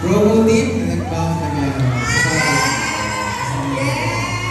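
A large crowd of fans at a mall show in SM City Lipa cheers and whoops loudly, with shouting children, steady and close throughout, mixed with some voices.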